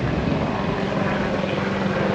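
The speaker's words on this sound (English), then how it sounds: "Military chopper coming right over." A military helicopter passes overhead on a farm with calves, giving a steady, loud, continuous rotor and engine roar that fills the whole moment with no talking.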